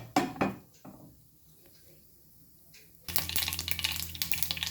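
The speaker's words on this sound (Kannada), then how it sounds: "ಹಾಗಾಗಿ ಸಾಸಿವೆಯನ್ನು ಹಾಕ್ಕೊಳ್ತಾ ಇದ್ದೇನೆ." Mustard seeds hit hot oil in a pan, giving a short burst of crackle, then quiet, then a loud steady sizzle and popping that carries on to the end, with no talking.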